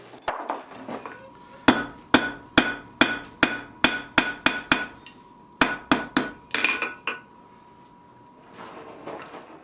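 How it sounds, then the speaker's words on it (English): A blacksmith hammers hot steel on an anvil with a cross peen to forge a wall hook, a close series of about fifteen sharp ringing blows in a steady rhythm with a short pause partway, then quiet shuffling. "Now it's just a matter of using the cross peen to spread the material out."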